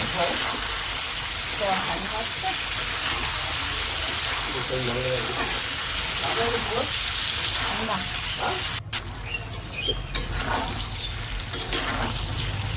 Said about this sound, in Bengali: টমেটোটা দেওয়ার পরে আমি আবারও একটু ভালো করে নাড়াচাড়া করবো, নাড়িয়ে নাড়াচাড়া করে নেব